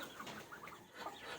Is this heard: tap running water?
no